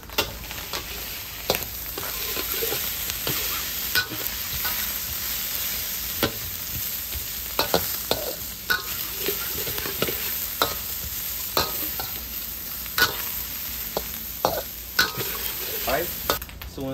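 Chopped carrots and onions, cut a little big, fry and sizzle steadily in a hot pan for fried rice, with frequent scraping stir strokes and utensil clicks over a constant hiss.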